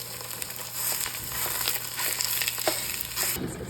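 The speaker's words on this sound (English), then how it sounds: "look at it sizzle" Turkey sausage sizzles and crackles steadily in a hot pan, a close, continuous hiss with scattered pops.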